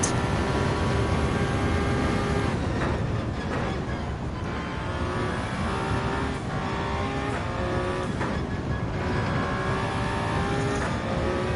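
Radical race car engine in Gran Turismo 7 revving hard and accelerating, a continuous loud high-pitched drone with rising gear pulls across the whole stretch and no talk over it.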